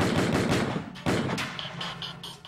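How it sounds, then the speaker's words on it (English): Gunfire during the 1983 invasion of Grenada: a rapid burst of sharp cracks, then a louder single report about a second in, followed by scattered, fainter shots with ringing tails, with no voices. "Nearby, the medical students hear the gunfire."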